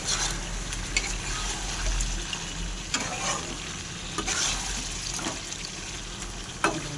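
Spiced mixture being stirred with garam masala in a frying pan, a steady low sizzle with a few sharp scrapes of the spoon against the pan, close and without talk.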